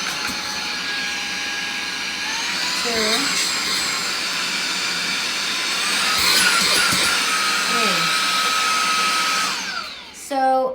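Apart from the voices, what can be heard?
REDTIGER cordless handheld car vacuum running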